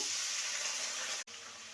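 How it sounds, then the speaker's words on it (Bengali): A little water poured onto ginger, green chilli and tomato frying in a pan, producing a loud, hissing sizzle that runs steadily, then cuts off briefly before resuming. "এবার সামান্য জল দেব।"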